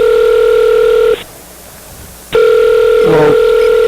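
Loud telephone ringback tone sounds in two long bursts separated by a silent gap, close and clear, with a brief faint voice near the end of the second burst.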